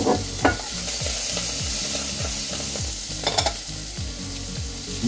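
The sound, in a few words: aromatic garnish frying and being stirred in a pan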